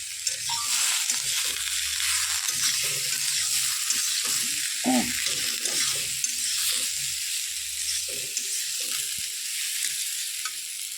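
Chopped tomato fries in a pan with rohu fish curry and raw bean seeds, a steady loud sizzle with intermittent scraping and stirring knocks throughout, no talk.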